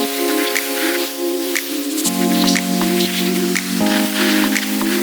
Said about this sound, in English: Now I'm gonna do the final rinse on it